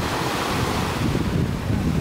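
Beach surf at PD Resort on Koh Tao, Thailand, in the early afternoon: a steady, loud wash of waves with gusty wind buffeting the microphone throughout, and no voices.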